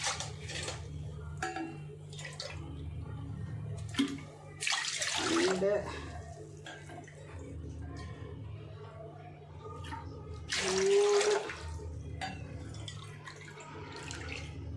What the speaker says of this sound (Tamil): அந்த மாவில் அதே மாதிரி இதுலேயும் 4 கப்பு தண்ணி ஊற்றலாம்